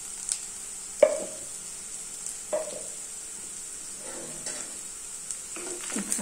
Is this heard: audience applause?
no